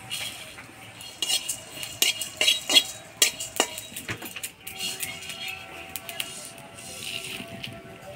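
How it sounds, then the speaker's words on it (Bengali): Metal utensils scrape and clink against a pan of frying chillies in irregular strokes, close by, with a faint background hum and occasional rustling. "লঙ্কাটা একটু নাড়াচাড়া করে নিব।"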